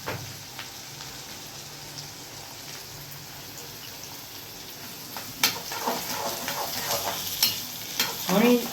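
Onion, tomato and chili frying and being stirred in a pan for poha, a continuous sizzle with scraping stir strokes growing busier toward the end.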